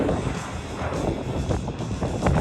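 An aerobatic airplane engine roars at full throttle during an air show flight, a loud, steady, close drone with wind rush and no pauses.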